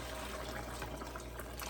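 Broth pours steadily into a cooking pot in a home kitchen, a soft continuous liquid splash and gurgle at low level with no pauses, heard alone without talk.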